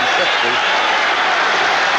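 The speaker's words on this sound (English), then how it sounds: "Simms asked the crowd to quiet down." Steady roar of a large football stadium crowd at a Buccaneers at Giants game near the goal line, a dense continuous wash of cheering with faint voices mixed in throughout.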